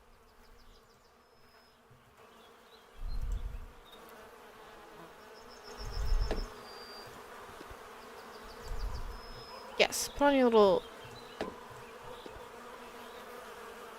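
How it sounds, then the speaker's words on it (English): Bees buzzing during beekeeping, a faint steady drone with brief louder swells, while a person speaks briefly nearby. "the bees are calmed by the smoke"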